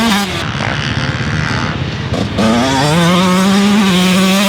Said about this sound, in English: the 2020 TM 144 wanted to scream at the top of its lungs. It ran best when held wide open.